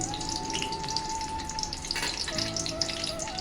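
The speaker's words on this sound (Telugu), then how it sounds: "నేనైతే ఇక్కడ బాండ్లీలో ఆయిల్ వేసుకున్నా ఇప్పుడు ఉల్లిగడ్డ కట్ చేసుకున్నా వేసుకుందాం" Chopped onions fry in oil in a pan, producing a continuous close sizzle with some watery crackle and a faint tonal hum underneath, and no talking.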